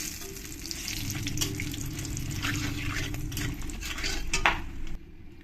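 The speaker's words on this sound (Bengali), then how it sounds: "এবার আমি এর মধ্যে দিয়ে দেব শুকনো লঙ্কা, তেজপাতা, জিরে আর গোটা গরম মশলা, দিয়ে ভালো করে আমি মিশিয়ে নেব।" Dry red chillies, bay leaf, cumin and whole garam masala sizzle steadily in hot oil in a pan, with scraping stirs and light utensil clinks throughout and no talking.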